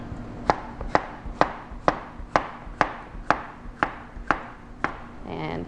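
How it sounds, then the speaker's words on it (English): A knife slices a cucumber on an angle against a cutting board, giving about eleven crisp, evenly spaced chops at a brisk, regular rhythm, close and clear with no talking. "And I'm going to cut the cucumber on a bias, so just on an angle."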